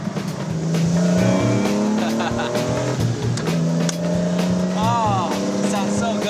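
JDM car engine fitted with a triple carburetor setup revs loud and close, a rough, steady roar that swells and eases in pitch over several seconds, with voices talking beneath it.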